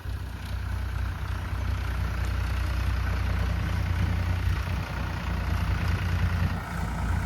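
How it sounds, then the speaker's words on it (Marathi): A new Powertrac Euro 47 farm tractor idles outdoors, its diesel engine holding a steady low rumble at even loudness throughout, with no voices over it. "नवीन पॉवर ट्रॅक घेतलाय हे बघा."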